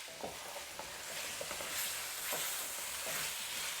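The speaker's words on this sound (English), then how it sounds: "You can stir in your potatoes." Potatoes are stirred into a hot pan of curry base for potato and peas curry, making a continuous loud sizzle with repeated soft scraping strokes at a relaxed, regular pace.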